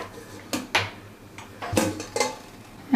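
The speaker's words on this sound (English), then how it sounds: "I'm opening the pressure cooker." A pressure cooker being opened after cooking chana dal: a few sharp metallic clanks and clicks of the lid and weight, spaced irregularly, close and fairly quiet.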